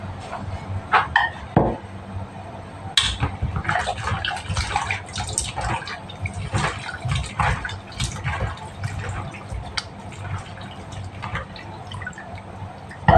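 Chicken being washed in water for Filipino tinulang manok, with irregular drips, splashes and trickling running steadily close by, no talk.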